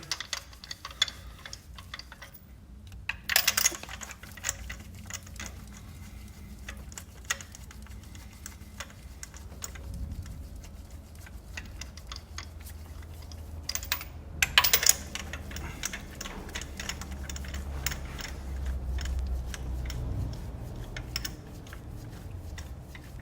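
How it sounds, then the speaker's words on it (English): Spark plugs on a Toyota Corolla wound in with a spark plug socket make faint, irregular metallic ticks and clicks over a low background, with a couple of sharper clanks along the way. "you need a proper spark plug socket. Just wind them in."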